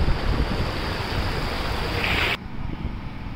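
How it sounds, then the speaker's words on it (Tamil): Steady rushing water from a waterfall at Katara in Qatar fills the scene as a dense, constant roar, then drops to a quieter wash near the end, with no voices. "மேலே அருவி பாருங்கள், வேறு லெவலில் ஓடிக்கிட்டு இருக்கு"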